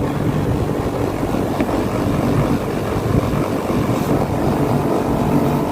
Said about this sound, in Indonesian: kompresor sudah berjalan normal